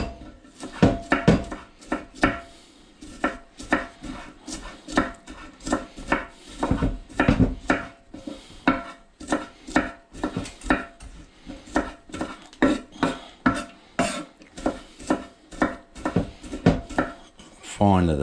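A knife chops onion on a wooden wild boar tray in a rapid, rhythmic series of loud, close knocks, with brief pauses between bursts.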